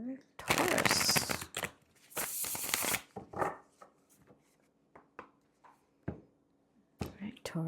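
Oracle cards shuffled by hand, two long bursts of riffling and flicking up close, then scattered soft taps and slides as the deck is handled, with faint murmuring in between.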